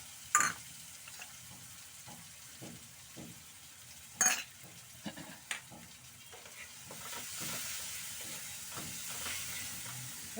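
Water mixed with turmeric and chilli spice cooking in hot oil in a pan, giving a soft steady sizzle and bubbling, broken by a few close clinks and knocks of a utensil.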